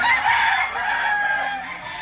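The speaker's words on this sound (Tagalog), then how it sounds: "3 taong manok." A three-year-old white-legged Batangas fighting rooster crows nearby, a sustained strained call over a busy market background with other fowl clucking faintly.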